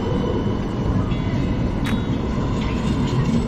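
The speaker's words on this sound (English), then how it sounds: "So we just took the tram, the 15E" Lisbon tram 15E rolling along the tracks, a loud, continuous low rumble from inside the car with a brief higher squeal partway through and faint clatter of wheels over rails.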